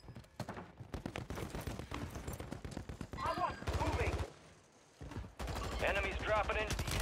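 Rapid bursts of automatic fire from a DG-58 LSW light support weapon in the shooter Warzone 3, clattering close and loud in repeated volleys with voices mixed in.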